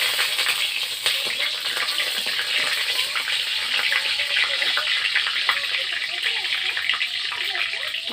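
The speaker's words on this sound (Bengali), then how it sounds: "তেল গরম হয়ে তেজপাতা দিয়ে দিলাম" Bay leaves fry in hot oil in a wok while mushrooms are being cooked. A close, continuous crackling sizzle with fine popping runs steadily throughout.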